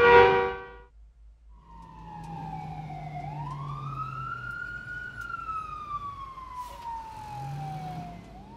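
Ambulance siren from a children's cartoon about vehicles, a rising and falling electronic wail that sweeps up and down steadily over a low engine rumble, loud and close, after a short spoken word at the start.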